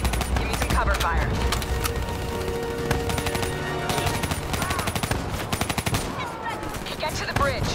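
Dense gunfire in Call of Duty Black Ops 3: rapid automatic bursts and sharp single shots crack loudly throughout, layered over game sounds and music, with voices speaking between the shots.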